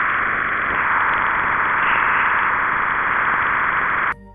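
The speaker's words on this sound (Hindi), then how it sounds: "जुपिटर का साउंड आप सुन सकते हैं।" Jupiter radio signals recorded by the Juno spacecraft and converted to sound, a dense, steady hiss and roar of noise that ends abruptly after about four seconds.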